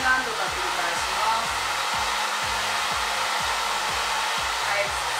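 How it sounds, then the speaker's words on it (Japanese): A hair dryer blows steadily and close on towel-dried hair, a continuous loud airy whoosh with no talking. "サイドは頭をちょっと傾けながらドライヤーを下から当てることで根元に風が送り込みます。"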